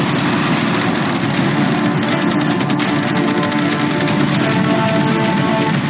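Fireworks, arrows and catapults all firing at once at a boat make a loud, dense, continuous barrage of crackling blasts and rumbling booms, with no voices.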